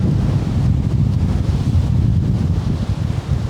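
Storm waves pounding a seafront in Paphos, heard as a heavy low roar buried in strong wind buffeting the microphone, continuous and loud throughout.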